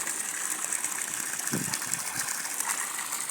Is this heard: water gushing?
yes